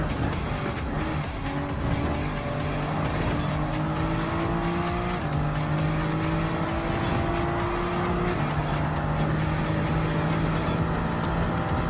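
Race car engine in Gran Turismo 7 while overtaking a Hyundai Genesis; a loud, continuous high-revving engine climbs through gears with sharp shifts, backed by tire squeal and the drone of nearby cars.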